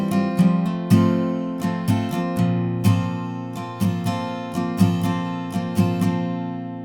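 An acoustic guitar is strummed through the verse pattern of a song, with steady rhythmic down-up strokes and ringing chords played close and clear, and no voice.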